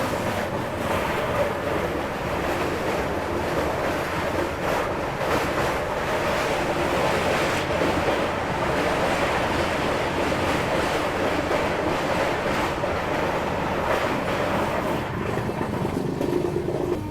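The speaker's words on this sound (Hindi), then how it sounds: "तो अब ट्रेन जो है वो नॉन स्टॉप चल रही है" The Kashi Tamil Sangam Express runs non-stop with a continuous, steady rushing roar, broad and unbroken, like wind and rolling noise heard from aboard the moving train.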